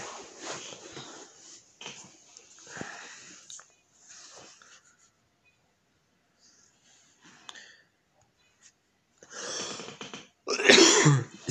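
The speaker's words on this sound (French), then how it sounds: "Excusez-moi, je tousse un peu." A man coughs several times in short bursts between quiet pauses, close to the microphone, with a final louder harsh cough and throat-clearing at the end.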